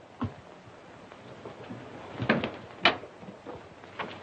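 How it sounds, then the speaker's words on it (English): A door opens as someone arrives in a 1935 film, heard as a few scattered wooden clunks and bumps, close by, over a quiet room with no talking. "There's your father at the door."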